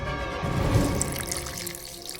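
Clean water pours steadily into a golden vessel, a continuous splashing wash that swells and then eases slightly, with no voices.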